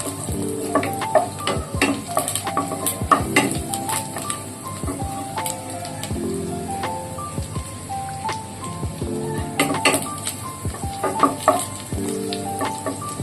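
Steady oil sizzle and crackle of frying garlic fills the clip, with scattered pops and occasional utensil clinks, fairly close and continuous.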